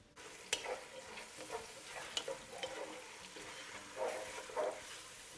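Roughly chopped onions fry in a pan, a steady soft sizzle broken by stirring scrapes and light clicks, fairly quiet and close, with no talking.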